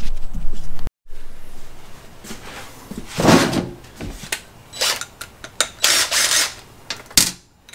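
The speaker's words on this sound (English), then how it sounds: "the next step is to bolt the bottom plate onto the diff cover" Ratchet driving bolts to fasten the bottom plate onto a Dana 60 differential cover during a shave kit install, heard as irregular bursts of clicking and clattering metal handling, close and fairly loud, with brief pauses between runs.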